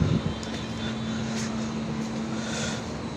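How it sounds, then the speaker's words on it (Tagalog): A large 145 kVA generator runs steadily, a loud continuous engine drone with a constant low hum throughout, no voices over it. "Ito ang pangalawa natin generator."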